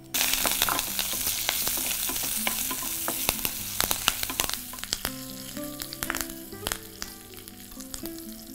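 Curry leaves and asafoetida sizzle in hot oil for rasam, a loud crackling fry with many sharp pops and spatters that thin out over several seconds, no voices.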